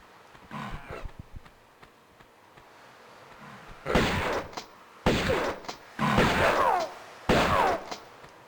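Shotgun fire in a remastered Tomb Raider game, several loud heavy blasts in quick succession after quieter scattered thumps, each burst ringing briefly before cutting off.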